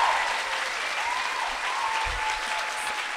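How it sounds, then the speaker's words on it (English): An audience at New York Comic Con 2016 applauds the Carmilla cast, a sustained, even wash of many hands clapping throughout, with a faint low thump partway through. "can we give a big round of applause for these guys for giving us 3 amazing seasons of Carmilla?"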